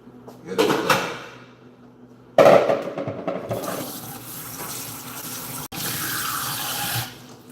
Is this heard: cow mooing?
no